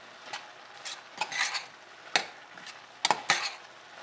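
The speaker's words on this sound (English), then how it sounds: "and then give it a stir." A spoon stirs pasta sauce seasoned with garam masala and black pepper in a saucepan, giving a few soft scraping sweeps and light clinks against the pan, close and fairly quiet, with no one talking.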